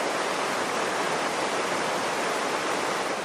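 Steady rushing flow of the Aragón river, a broadband wash of moving water that stays constant and close throughout, with no voices.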